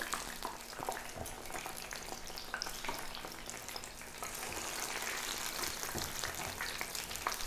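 Steady crackling sizzle of fritters deep-frying in hot oil, with sharp spatters popping throughout, close and continuous.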